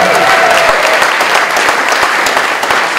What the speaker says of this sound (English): How about a big round of applause for Anna Trent Moore